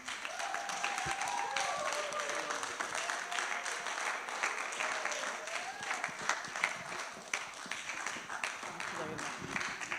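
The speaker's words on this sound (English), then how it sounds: "Come on, a bigger, better clap." Audience at a youth mentorship programme clapping, a continuous bed of applause with voices talking and calling out over it throughout.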